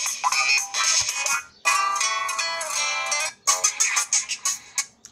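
The ringtone of an Oukitel C5 Pro budget smartphone plays loud and close, a bright tonal melody in repeating phrases with brief gaps between them.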